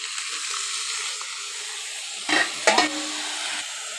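Ginger-garlic paste is stirred into onion masala frying in a pan: a continuous soft sizzle with a couple of louder scraping, clattering stirs near the end.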